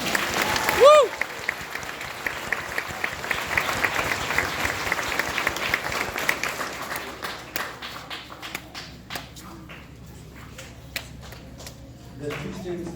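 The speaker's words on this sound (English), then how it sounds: "Please give him another round of applause" Sustained applause from a crowd, loud at first and gradually thinning into scattered claps and a few whoops before fading.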